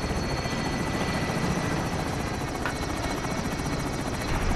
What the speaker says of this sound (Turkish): Helikopter de geldi aşağıda da.